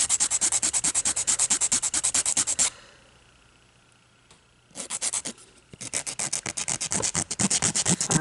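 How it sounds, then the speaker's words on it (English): Coarse nail file rubbed back and forth over solid builder gel nails, a rapid rhythmic rasping close up, pausing briefly in the middle before resuming steady strokes. "I'm going to go ahead and file. I actually had to use the coarser side to"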